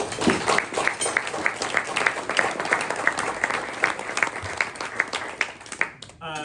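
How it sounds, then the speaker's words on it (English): Audience applause fills a luncheon room for the whole stretch, steady dense clapping at moderate loudness that fades out near the end. "Let's give them a round of applause."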